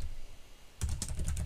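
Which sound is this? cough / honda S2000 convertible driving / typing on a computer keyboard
typing on a computer keyboard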